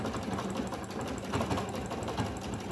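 A sewing machine runs steadily at close range, a fast even clatter of stitches with no pauses or voices.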